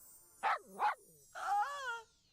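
A single dog barks twice in quick, distinct woofs, then lets out a longer whining bark, each clear and close against a quiet background.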